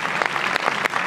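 Audience applause at a film screening, a dense, steady wash of many hands clapping, close and loud.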